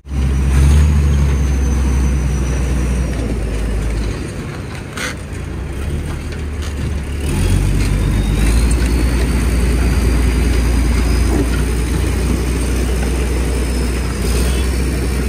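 A stuck lorry engine runs loud and steady, surging as its tyres spin in place, with a brief dip before the revving picks up again and holds throughout.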